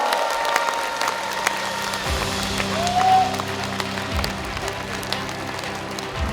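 Steady audience applause at a book launch event in Wonju, a sustained wash of clapping from a crowded hall, moderately loud and even, with a faint voice underneath.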